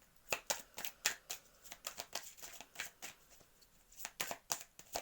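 Oracle cards shuffled by hand in a rapid run of soft slapping flicks, fairly regular and close but quiet, with no talking.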